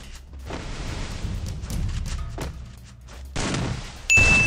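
A few booming blasts and crackling bursts of gunfire-like noise in a video game, moderately loud, ending in a sharper, louder explosion near the close.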